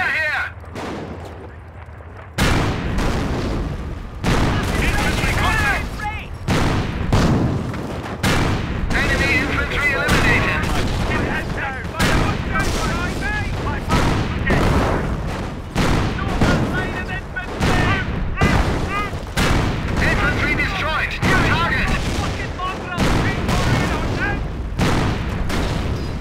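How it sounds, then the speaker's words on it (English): Battlefield combat in the WWII strategy game Company of Heroes, featuring a German Panzer IV-F tank: repeated loud gunshots and heavy booming cannon or artillery blasts that keep going with short gaps between them. "We're taking fire here!"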